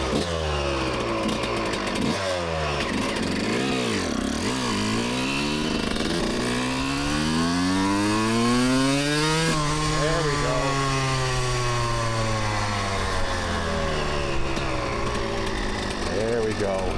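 A Suzuki RM125 two-stroke motocross engine revs hard with its power valve engaging, a loud continuous buzzing howl that sweeps up and down in pitch through repeated throttle blips, close and filling the whole stretch.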